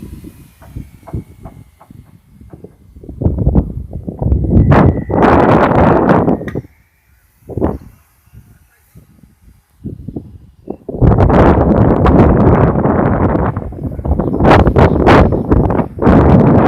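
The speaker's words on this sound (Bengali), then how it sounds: "প্রচণ্ড হাওয়া দিচ্ছে আর একদম আমরা নদীর পাড়ে আছি" Strong wind gusting on a riverbank, loud roaring bursts that rise and drop away between brief quieter lulls, buffeting close and heavy throughout.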